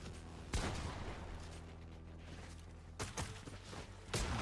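Video game gunfire: a few separate sharp shots at uneven intervals, the first after a short pause and two more close together near the end, over a low rumbling backdrop without speech.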